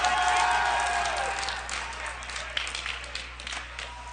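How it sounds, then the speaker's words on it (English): The Chaska crowd cheers and applauds after a goal in a boys' high school hockey game against Holy Angels. The roar of the cheering is loudest at first and then fades into scattered clapping and arena noise under a commentator's voice. "Chaska's crowd is into it here."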